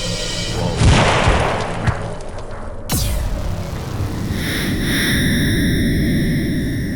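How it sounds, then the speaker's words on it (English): A tree exploding in a fantasy world as a portal collapses: a sudden deep boom and crash near the start, then a second sharp blast and rumbling aftermath with a lingering high ringing tone, loud and with no talk. "The explosion from the tree, it pushed us into the portal before it closed."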